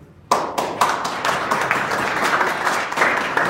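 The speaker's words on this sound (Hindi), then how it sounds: "तो अपने लिए तो ताली बजा दो।" Students in a classroom workshop start clapping suddenly and keep up dense, sustained applause. The sound is close and bright, with individual claps standing out and no talking.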